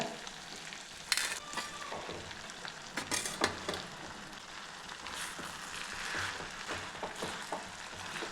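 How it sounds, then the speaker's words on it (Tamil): Potatoes and spinach sizzle quietly in a hot pan for aloo palak while a utensil scrapes and stirs now and then, close up and soft, with no talking. "பாலக்கீரையை நல்லா அந்த உருளைக்கிழங்கு கூட கலந்து விட்டுருங்க"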